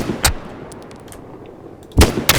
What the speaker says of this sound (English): So we're gonna shoot again.